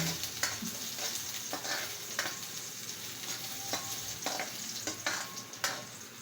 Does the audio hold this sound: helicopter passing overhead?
no